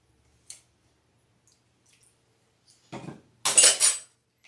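A utensil scraping and clinking in a bowl while stirring a cookie mixture with vanilla for kolachki, a few short wet scrapes and taps, close and sparse with quiet gaps between.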